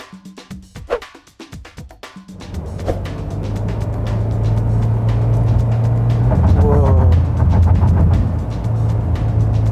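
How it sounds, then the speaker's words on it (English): A 2021 Perodua Aruz with a 4-speed automatic accelerates from near quiet, its engine drone swelling after a few scattered clicks and then holding a loud, sustained, strained rumble with road noise as revs climb. "when I try to accelerate, you can really hear the RPM that dragging"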